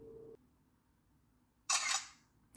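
A cheap yard-sale smartphone plays its camera shutter sound as a single sharp, bright synthetic snap lasting about a third of a second, preceded by a short electronic tone in a quiet room.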